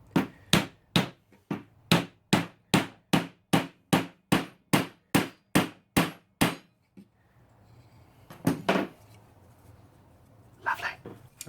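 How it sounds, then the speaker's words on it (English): A rasp works out a barrel in about fifteen evenly spaced, sharp rasping strokes, close and loud, followed by quieter scattered handling noises. "Now I'm just rasping out the other one."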